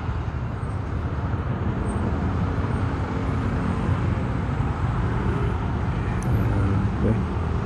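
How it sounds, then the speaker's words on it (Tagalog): Steady road traffic in the Antipolo area at dusk, a dense continuous rumble of cars and buses in heavy traffic, loud and unbroken throughout with no clear speech. "traffic."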